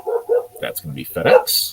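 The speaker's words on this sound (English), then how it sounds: "That's the dog, because the dog doesn't like FedEx." A house dog barks at a FedEx delivery, a few short yips and barks mixed in under someone talking nearby.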